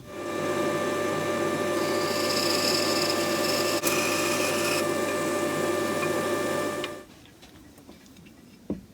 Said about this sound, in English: So I'll have to drill from both ends